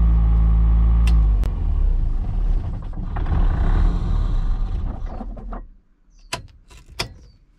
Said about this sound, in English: That was an example of dieseling,